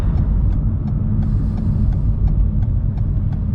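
A car on a road in Liverpool, Australia, heard as a loud, close, steady engine rumble that continues throughout with no break.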